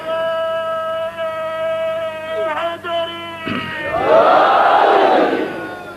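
A large gathering at a memorial majlis shouts a slogan in unison, a loud swelling chant that erupts after a sustained tonal passage and holds for a couple of seconds.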